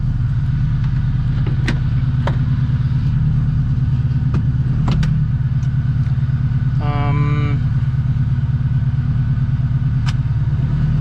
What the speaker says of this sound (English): Seems to idle good.